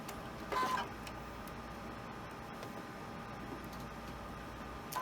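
Sewing machine stitching a quilt piece, a steady mechanical whirring hum running throughout with a brief louder burst near the start, fairly close and without talk.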